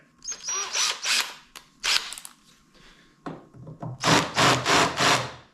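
A screw is driven into wood in several short bursts of whirring and grinding separated by brief pauses, close and fairly loud, with the bursts growing longer toward the end.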